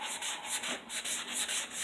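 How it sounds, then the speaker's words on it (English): Steady back-and-forth scraping of a sanding block on a wooden dresser edge, repeating in quick rhythmic strokes, close and fairly quiet with no talking. "I would take the sanding block and just hit up that edge right there."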